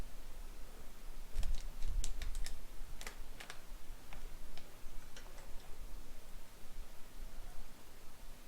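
A computer mouse is clicked while working in Revit software, giving a few sharp close clicks in a cluster followed by scattered single clicks over a steady background hiss.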